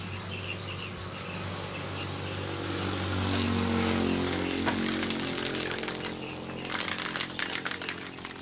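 A spray gun hisses steadily while laying a thin first clear coat on a Honda Beat motorcycle body panel, loud and close, with a droning buzz under the spray and no speech.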